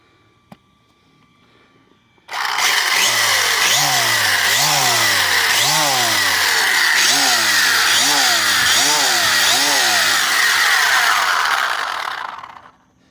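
An HBX 18859A RC car on a 3S battery runs at full throttle, its high-pitched electric motor whine starting abruptly, then rising and falling in repeated sweeping surges, loud and close, before cutting off near the end.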